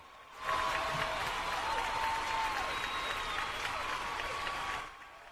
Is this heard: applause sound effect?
yes